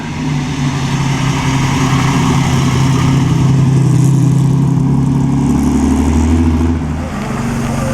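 A vintage Ferrari race car on the Mille Miglia road race, driven by Jack McAfee in the Mexican road race, runs close by with a steady, loud mid-pitched engine drone that swells and then eases slightly as it passes.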